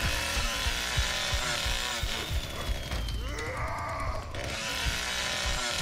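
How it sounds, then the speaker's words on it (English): Chainsaw in a Leatherface horror video game, a loud, rough buzzing roar that surges and dips in pitch over a few seconds, mixed with clanking game noise. "I just stalled my chainsaw."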